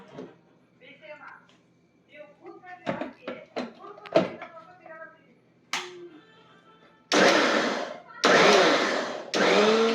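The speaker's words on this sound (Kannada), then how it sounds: "ಇದ್ರ ಜೊತೆಗೆ ಸ್ವಲ್ಪ ಶುಗರ್. ಇದು ಗ್ರೈಂಡ್ ಮಾಡ್ಕೊಳ್ಳೋಣ." A kitchen mixer grinding Oreo biscuits with sugar, heard as loud roaring bursts in the last few seconds after a stretch of clicks, knocks and handling of the jar up close.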